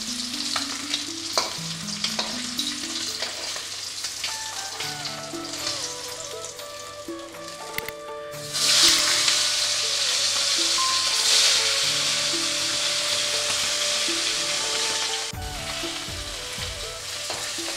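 Pomfret pieces frying in oil in a wok give a steady, close sizzling hiss that runs the whole time, with background music over it and a brief louder burst of sizzle midway.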